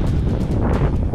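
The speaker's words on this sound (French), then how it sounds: "Et là, il y a du vent." Wind buffeting a microphone on the gravel-bike climb up Mont Ventoux, a steady, loud low roar with gusty swells throughout and no talking.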